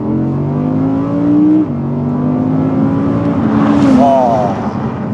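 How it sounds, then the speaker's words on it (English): An Audi R8 rear-wheel-drive V10 engine hums and climbs through the revs, its pitch sliding up and dropping with gear changes, loud and close, like a sports car accelerating. "Just V10 doing its thing, man. V10 goodness."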